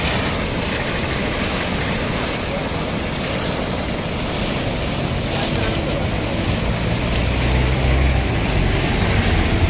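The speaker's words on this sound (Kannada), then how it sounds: "ಈ ರೀತಿ ಪೈಪ್ ಒಡೆದು ಹರಿದು ಹೋಗ್ತಾ ಇದೆ" Steady, loud rushing of water gushing from a burst municipal water supply pipe near Vajpayee Nagar, Tarihal, Hubballi, a continuous broadband roar that holds without pause throughout, with a faint low rumble underneath.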